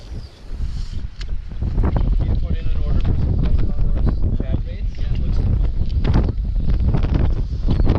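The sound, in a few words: strong wind on a lake while bass fishing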